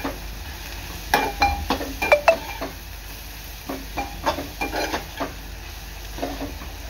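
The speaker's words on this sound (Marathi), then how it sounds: "हळद आहे ना चांगली कांद्यात मिक्स करून घ्यायची आहे" A spoon scrapes and clatters in a pan while turmeric is stirred into sizzling frying onions for an okra stir-fry, irregular close metallic knocks over a steady low sizzle, no voices.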